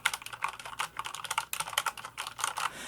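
Someone types rapidly on a computer keyboard, a close, crisp run of clicking keystrokes in uneven bursts with brief pauses.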